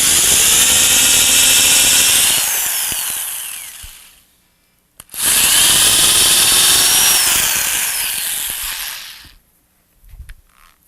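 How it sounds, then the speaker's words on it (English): Two long bursts of a power drill boring eye holes into a lathe-turned wooden snowman, loud and close, each winding down to silence, with a brief click between them. "And then I just drill the holes for the eyes."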